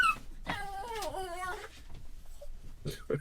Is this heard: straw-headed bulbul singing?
no